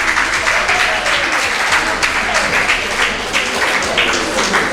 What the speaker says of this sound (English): we are going to put your hands together to clap for this school